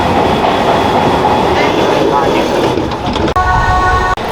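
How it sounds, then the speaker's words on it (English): Loud rumbling roar of a Rome underground metro train in motion, heard from inside the carriage, with clattering wheels, rising whines and a couple of sharp clunks near the end. "So we're just using the underground for the first time now."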